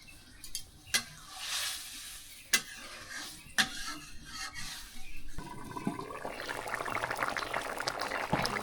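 A village pot of pumpkin curry with water, before the fish goes in, bubbling on the stove with several sharp stirring clacks, then a louder rolling boil and sizzle building toward the end.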